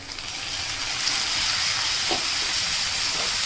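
Chopped tomatoes hit softened onions in a pan for paneer bhurji over a low flame, giving a steady, close sizzling hiss that runs throughout with a small crackle partway through and no talking.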